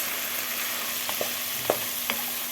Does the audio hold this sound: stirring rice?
yes